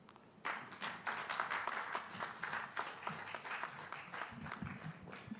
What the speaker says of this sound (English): Please, another rousing round of applause for Prof.